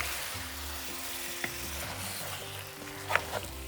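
A spoon stirs Kerala-style tapioca and beef biryani in a pot, soft scraping and gentle sizzling close up, with a couple of faint clinks and no talking.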